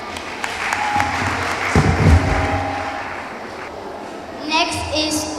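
A studio audience claps for a child contestant at a televised kids' podium speaking competition, a dense steady patter that swells midway and fades under a voice talking.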